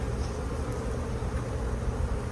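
Honeybees buzzing in an open beehive, a dense, steady drone of many insects heard close and continuous without a break.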